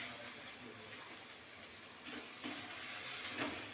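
Bottle gourd peel paste is sautéed in a pan, giving a faint, steady sizzle with a few slightly louder hissing swells near the end.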